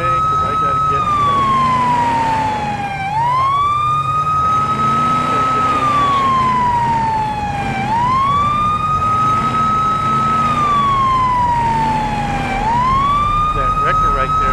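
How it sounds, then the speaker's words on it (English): A police car siren in the video game Police Simulator: Patrol Officers wails up and down in long, steady cycles, loud and continuous, with a low engine rumble beneath and faint talk. "Turn our lights on and our siren."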